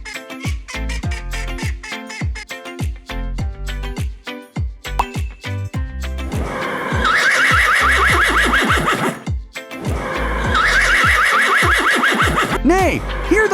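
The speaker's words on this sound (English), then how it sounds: "Nay, hear the horse." A horse neighs over cheerful children's music with bright synth tones, its whinny rising briefly above the steady backing track.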